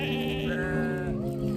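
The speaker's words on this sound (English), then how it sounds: "This sheep says ba." A sheep bleats in a steady, wavering tone on a farm, one sustained call close by that shifts pitch partway through, with no talk over it.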